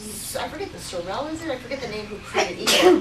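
A single sharp sneeze bursts out near the end while a person is speaking in a kitchen setting, loud and close after steady talk.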